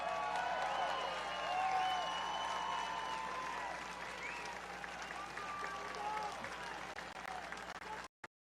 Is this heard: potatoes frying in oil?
no